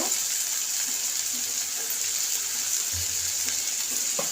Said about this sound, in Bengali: তারপরে আপনার একটু ভেজে নিব সামান্য।